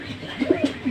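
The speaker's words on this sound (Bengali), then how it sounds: "এটা হলো চুহা কবুতর, চুহা" A Chuha pigeon in a loft coos close by: a few soft, low, throaty pulses in quick succession over a light background hiss.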